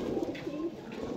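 Pigeons coo softly in a loft or coop where a breeder keeps Rampuri and other pigeons, the low rolling calls continuous and fairly close over a faint background with no talk.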